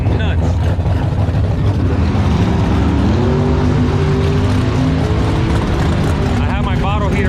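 A big-turbo race car engine drones loud and close, its pitch shifting and rising as it revs, with a voice talking over the steady roar.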